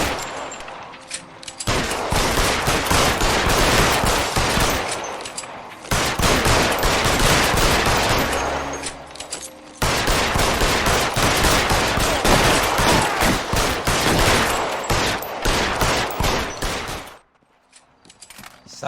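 A shootout in the L.A. Noire video game: long stretches of dense, rapid gunfire in loud sustained bursts, broken by two brief pauses and dropping away near the end.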